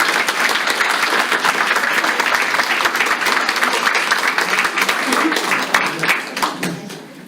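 Loud, sustained applause from the audience at a college honors symposium after student presentations, dense clapping filling the room for several seconds before starting to taper at the end.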